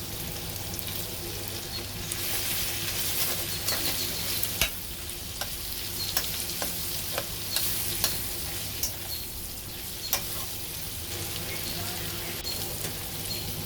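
Onion stir-frying for a Chinese dish, a steady sizzle of hot oil with scattered sharp clicks and scrapes from the spatula tossing the pan, fairly close and uninterrupted, with no talking.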